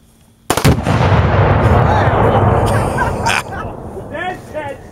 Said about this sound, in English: Which one are you shooting, Matt?